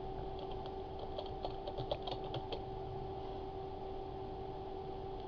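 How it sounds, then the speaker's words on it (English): Text being typed on a computer keyboard in embroidery design software, a quick run of light clicks over a steady hum, then fading out. "Type in your text."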